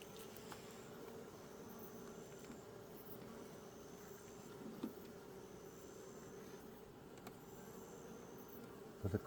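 A dense swarm of honeybees buzzes steadily around a hive box during a beekeeping inspection, a continuous close drone with no speech.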